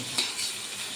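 Pointed gourd (potol) and egg stirred in a pan over low gas, with a scrape of the utensil and a steady soft sizzle of frying throughout.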